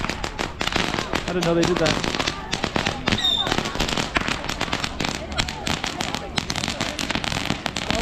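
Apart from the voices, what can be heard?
fireworks and firecrackers going off in Macau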